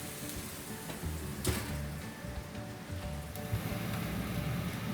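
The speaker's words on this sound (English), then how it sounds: "back in they go for another 3 to 4 minutes until they're fully seared" Food searing in a hot pan while being cooked until fully seared, a steady loud sizzle with crackling spits that swells slightly toward the end, no voices.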